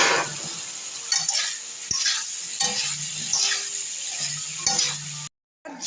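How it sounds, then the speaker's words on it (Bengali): Taro and potatoes sauté in a pan with cumin and chilli powder, a continuous sizzle with rhythmic scraping strokes of a spatula every second or so, close and alone, ending in a brief dropout. "এরপর কচিগুলো দিয়ে দিচ্ছি একসাথে কষিয়ে নেবো ভালো করে"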